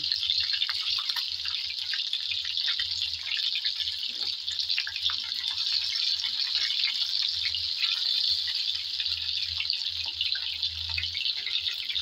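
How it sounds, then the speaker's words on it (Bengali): Chicken pieces frying in oil in a small pan, a continuous bright sizzle and crackle held close and even from start to end, with no talking. "উল্টিয়ে পাল্টিয়ে আমি লাল লাল করে চিকেন ভেজে নিলাম"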